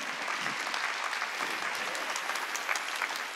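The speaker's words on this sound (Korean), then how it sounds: "박수" Applause fills a church worship service, a thick continuous roar of many hands clapping at once, steady and full from start to finish with no talking on top.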